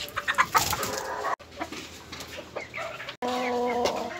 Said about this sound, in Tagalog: At ito namang tandang.